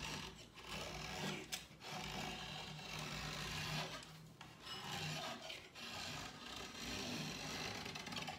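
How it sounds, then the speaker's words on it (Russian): Continuous rasping as excess 19 mm edge banding tape is carefully trimmed flush off a 16 mm chipboard panel, with steady scraping strokes and brief pauses, close up with no talk. "Поэтому после приклеивания мы излишки срезаем аккуратно."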